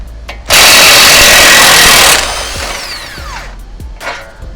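A power tool on a Chevrolet Suburban's rear lower control arm to knuckle bolt blasts out a loud, rapid rattling burst lasting over a second, then winds down with a falling whine amid scattered metallic clinks.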